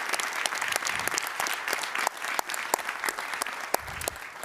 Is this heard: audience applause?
yes